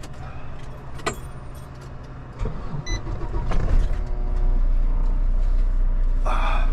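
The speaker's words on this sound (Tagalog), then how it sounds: "Buhayin ko muna kasi nalobat yung truck." A truck engine with a drained battery cranks and catches, building into a steady, close, loud low rumble that carries on idling to the end.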